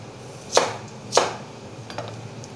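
A knife cuts an onion into diamond pieces on a board. There are two sharp, close chops about half a second apart, then two lighter taps. No one speaks.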